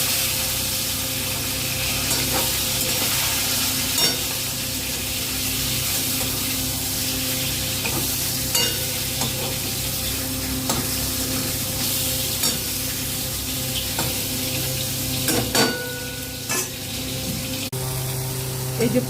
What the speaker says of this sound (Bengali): আজকে আমি রুই মাছের নুন হলুদ মাখিয়ে রেখেছি, আর এবার এগুলোকে ভাজবো।